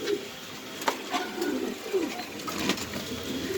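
Pet pigeons, including Danish and Damascene breeds, coo in a low throaty murmur, several overlapping calls rising and falling close by with a few sharper chirps.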